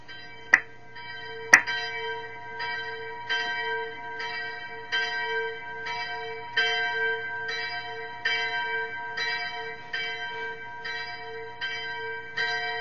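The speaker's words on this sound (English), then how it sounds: "as we listen now to the bell of silence" A bell rings with steady, evenly spaced strokes, its ringing tones sustained and overlapping, after two sharper initial strikes; no voices.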